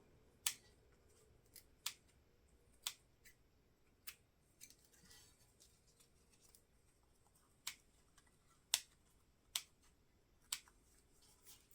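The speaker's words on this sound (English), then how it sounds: "Remove your pins and trim your threads." Scissors snip threads on a zippered jelly pouch being sewn, a series of sharp, quiet clicks spaced irregularly over a soft background hiss, with no voices.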